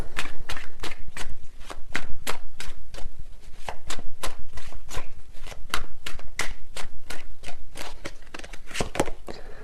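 Tarot cards are shuffled by hand in fast, rhythmic riffles and slaps, close and crisp, repeating steadily for several seconds without speech.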